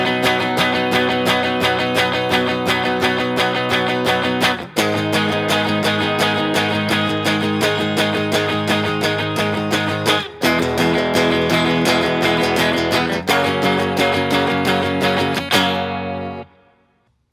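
Strummed electric guitar chords with a gritty, effected tone, changing every few seconds in a steady sequence, then the final chord is cut off abruptly.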